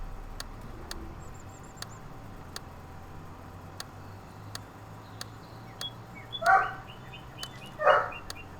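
Dogs barking indoors, two short loud bursts late in the stretch over a quiet background hum and soft regular ticking.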